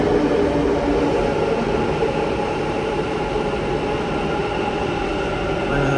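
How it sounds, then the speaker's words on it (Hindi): Metro train rumbling steadily on the rails at a station, a continuous loud broadband roar with no talk over it. "ट्रेन आसला"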